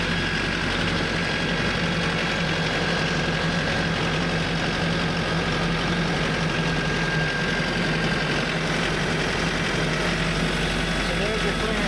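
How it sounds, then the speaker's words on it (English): A tractor engine idles steadily at close range, a constant low mechanical drone with a faint vibrating hum and no clear revving, running alone for the whole stretch. "Let me crank up the tractor and show you that"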